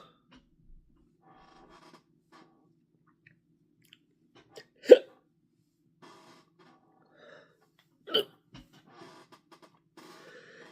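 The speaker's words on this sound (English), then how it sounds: "Here comes the hiccups." Two sharp, abrupt hiccups after eating a Chocolate Bhutlah pepper, spaced a few seconds apart, each a short close gulp-like burst, amid quiet breathing and faint mouth noises.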